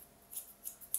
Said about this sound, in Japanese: 外切りの このハサミ、この練習 方法ですね。